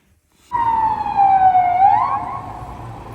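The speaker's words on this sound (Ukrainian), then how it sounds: "То швидка. Кудись вона біжить." A loud ambulance siren starts abruptly after a moment of quiet, then holds a steady, wavering wail close by, briefly jumping in pitch.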